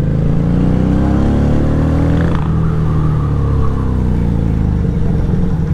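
An FKM Victorino 250i V-twin motorcycle engine runs loud and close, its deep, round drone swelling in a brief rev before settling back to a steady throb, with no talk.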